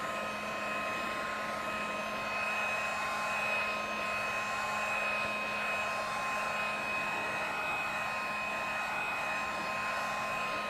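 A hair dryer drying ink on a craft page runs steadily and unbroken for the whole stretch, a constant close whooshing drone with a faint whine on top and no talking.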